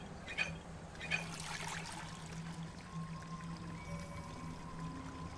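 Water pours from turned taps in the Living Legends game as a steady, quiet trickling stream under a faint tonal hum, with a couple of soft clicks near the start.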